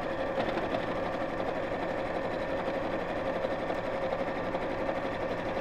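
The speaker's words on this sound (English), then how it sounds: "just sewing all the way around the edge, quite close to the edge" A domestic sewing machine runs steadily as it stitches close along the edge of fabric, a continuous, even, close-up whir with no pauses.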